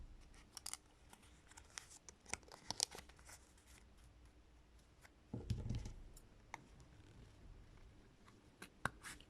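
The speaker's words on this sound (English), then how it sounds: "And then I fit my scissors in to the hole I've created by cutting up to the line" Scissors snip through cardboard while cutting out a circle for a pompom, quiet, close crisp clicks and cuts spread irregularly, with a brief rustle of the cardboard midway.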